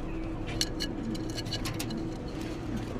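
A pair of grizzle pigeons coo softly in a cage over a steady low background hum, with a few faint ticking clicks and no talking.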